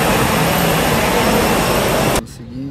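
Large airplane jet engine at an airport, a loud broad roaring rush held steadily up close before cutting off abruptly near the end, leaving a quieter hum.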